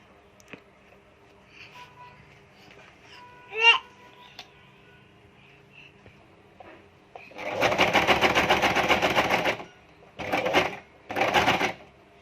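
A sewing machine stitches the corner of a homemade cloth mask in three bursts, one long run followed by two short ones, loud and close, after quiet handling of fabric.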